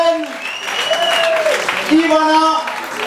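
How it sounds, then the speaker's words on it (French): Crowd applause for a salsa dance team at a Latin Studio Night showtime, steady clapping beneath a loud voice on a microphone calling out names. "Tonnerre d'applaudissements!"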